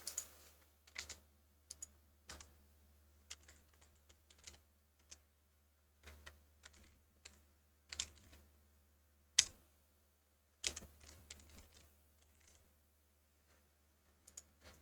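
Someone types on a computer keyboard close by, quiet key clicks coming in irregular bursts with short pauses between them, with no voice over them.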